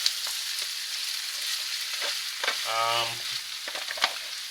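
Costco oriental vegetables stir-frying in a medium-to-large wok, a steady loud sizzle with scraping stir strokes and a brief tonal clatter from the pan midway.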